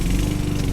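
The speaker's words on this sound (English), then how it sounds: "My neighbor is starting his lawnmower, so that makes it kind of difficult for me to do my video." A neighbor's lawnmower drones steadily and loudly nearby, a dense, continuous engine rumble filling the whole moment with no talk.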